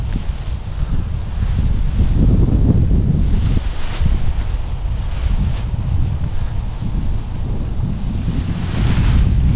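Gusty Santa Ana wind of 20 mph or more blowing across a local park during kiting, a loud, steady roar of buffeting gusts hitting the microphone throughout, with no talk.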